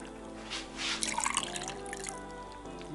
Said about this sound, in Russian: Здесь образовалось много сока. Он нам здесь не нужен, поэтому мы его сливаем.